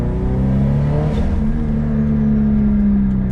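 Subaru STI with a 500 hp engine, misfiring from spark breakup and heard while the wastegate opens: a loud, steady engine drone with a humming tone that shifts pitch slightly, close by and with no voices.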